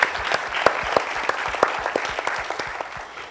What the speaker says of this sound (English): So please do give him a round of applause.